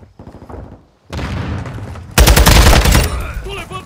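Video game gunfire in Call of Duty: Modern Warfare II multiplayer breaks out in rapid bursts, loud and close, swelling into a heavy barrage with booming hits. A voice speaks briefly at the start.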